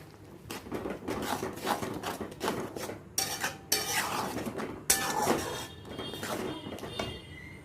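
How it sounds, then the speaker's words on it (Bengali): A spoon scrapes and stirs spiced masala paste with turmeric, chilli, cumin and coriander powder in a pan for paneer butter masala, giving irregular close scraping strokes and clinks of metal against the pan at moderate volume, with no talking. "এবার মশলাটা ভালো করে কষিয়ে নেব।"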